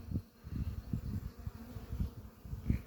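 Honeybee colony with young bees taking their first orientation flights in the sun, a soft, continuous buzzing hum with faint pulsing swells, fairly quiet and without voices.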